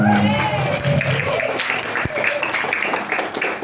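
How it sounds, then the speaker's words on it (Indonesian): Applause from an audience at a Ramadan pesantren opening gathering, a steady wash of clapping throughout with a voice speaking over it near the start. "Tepuk tangan untuk kita semua"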